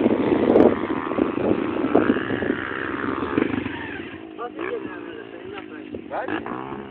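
A motorcycle wheelieing on a race track, its engine droning loudly and steadily before the revs ease off, under excited conversation between people.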